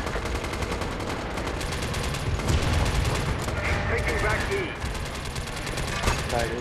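Constant heavy gunfire in the multiplayer shooter game MAG, dense rattling automatic bursts and shots, loud and continuous, with voices talking over the battle.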